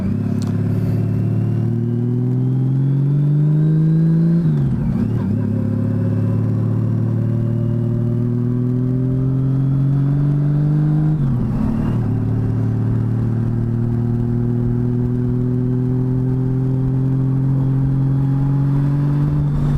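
A 2007 Honda Goldwing trike engine hums steadily while riding, rising in pitch as it accelerates, dropping briefly at two gear shifts, then climbing again, close and loud.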